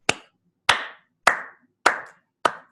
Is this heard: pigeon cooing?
no